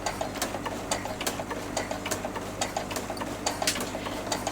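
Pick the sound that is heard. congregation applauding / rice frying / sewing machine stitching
sewing machine stitching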